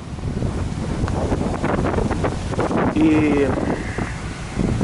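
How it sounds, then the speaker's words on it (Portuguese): Strong wind buffeting the microphone on a street in a luxury Miami neighborhood, a steady loud roar throughout with someone talking over it. "Muito vento também."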